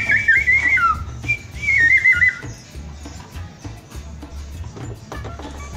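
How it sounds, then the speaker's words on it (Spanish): A small clay bird whistle, hand-made and fired with dung, blown in two warbling bursts with a bright trill, then background noise and low rumble. "Y aquí tengo un silbatico de un pajarito."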